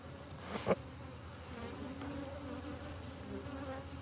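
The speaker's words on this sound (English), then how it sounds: "Look at these bees." Bees buzz around a flow hive as honey is harvested, a steady insect hum with one louder buzzing pass up close early on.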